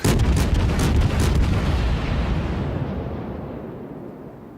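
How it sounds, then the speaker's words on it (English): A battleship's heavy naval guns fire a salvo in a World of Warships battle: a loud boom with sharp cracks at the start, then a long rumbling tail that slowly fades out, with no voices. "North Carolina is shooting at me."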